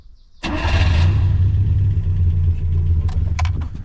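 A warm 1974 Fiat 125p engine cranks briefly and catches at once, then settles into a loud, steady, rumbling idle close by, with a few light clicks near the end.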